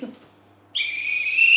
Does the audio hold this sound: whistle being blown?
yes